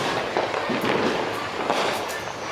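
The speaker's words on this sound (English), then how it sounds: "There's fireworks." Fireworks or firecrackers popping in a rapid, continuous crackle of bursts outdoors during a night event in the Philippines, fairly loud and steady throughout, with no talking.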